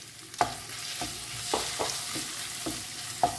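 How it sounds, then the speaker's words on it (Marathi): Prawns fry in a little hot oil for a Goan snack; a crackling sizzle runs throughout, punctuated by a series of spatula scrapes and knocks roughly every half second. "सो आतां आमी घालया सुंगटां आनी सुंगटांनी आमकां हें बरें फ्राय करून घेवंक जाय."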